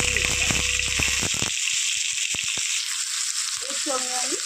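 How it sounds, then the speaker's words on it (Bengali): Vegetables fry with cumin and salt in a pan, giving a loud, continuous sizzle close up, with a few utensil clinks early on and a brief voice near the end. "এবার খুব ভালো করে ভেজে নেবো।"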